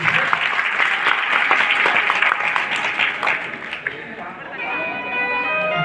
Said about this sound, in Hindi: एक बार कमेटी के लिए जोरदार ताली बजाएं।